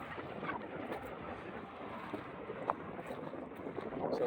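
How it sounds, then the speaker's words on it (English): Strong, gusty wind rushes steadily at a rest area along a highway toward Fort Stockton, a constant broadband roar buffeting the microphone with one brief sharp bump and no talk. "the wind is blowing me all over the road"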